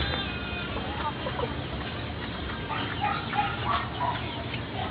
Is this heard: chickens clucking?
yes